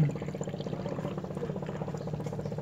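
Water runs into the open filler neck of a car radiator, a constant, close pouring that stays level for the whole stretch, free of speech.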